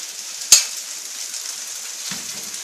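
A steady hiss of shrimp frying in a pan for a stir fry, with a sharp clatter near the start and a low scrape later, no voices.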